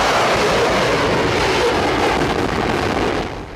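A Russian S-400 air defense missile system launches during a drill, making a loud, continuous roar of rocket exhaust that blasts steadily for several seconds and then starts to fall away.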